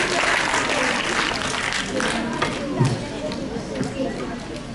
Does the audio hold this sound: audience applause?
yes